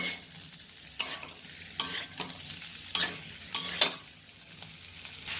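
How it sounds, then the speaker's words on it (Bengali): A potato curry is stirred in a pan, each pass of the spoon giving a loud scraping swish over a quiet sizzle, repeating several times at an irregular pace with no speech. "হালকা একটু নাড়াচাড়া করে দেবো"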